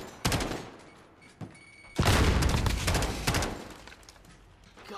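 Call of Duty Modern Warfare gunfire from a Striker weapon firing three-round bursts, loud, close bursts that recur across the stretch, with dense crackling reports and low booms, with no talk over it.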